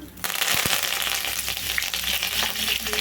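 Asafoetida and curry leaves fry in hot oil for a beans fry, giving a loud, steady sizzle close by. A few sharp crackles and stirring clicks sound over it, and no one speaks.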